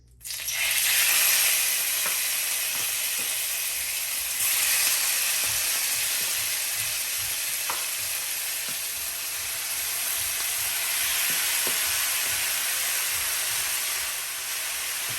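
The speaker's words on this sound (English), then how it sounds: "now that my oil is hot, I'm just gonna go ahead and start adding my steaks" Steaks hit hot oil in a pan for Jamaican pepper steak and set off a loud, bright sizzle that stays strong and steady, swelling slightly as each piece goes in, close and with no talking.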